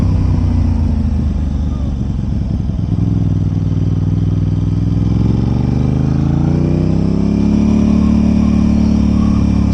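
An Aprilia RS 660 parallel-twin sport bike is ridden along a frontage road, its engine droning loud and close with wind rush, then rising in pitch as it accelerates through the revs.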